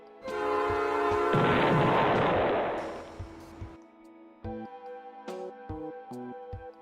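Train horn in the video game Replicat: a loud sustained blast with a rushing, noisy wash, then a few short tonal beeps and blips at moderate level, no talking.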